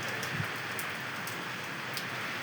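Rain from Typhoon Uwan pours down in Barangay Pinagbuatan, Pasig City, a steady close hiss of drops drumming on surfaces with a few louder splats, continuous and without voices.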